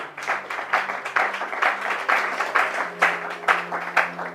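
A church congregation applauds in a steady, close, rhythmic burst of clapping that rises and falls for several seconds, with faint murmuring beneath.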